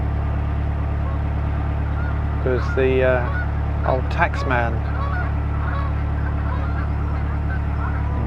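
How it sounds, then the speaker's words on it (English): Several flying geese honk in a short burst near a marina over steady low engine or water-vehicle rumble, with someone speaking briefly among them. "you can see the geese flying behind me there"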